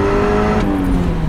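A 35-year-old tuned Porsche 944 Turbo pulls hard on a test drive, its engine note rising loud and close for a brief stretch of acceleration with a slight dip partway through.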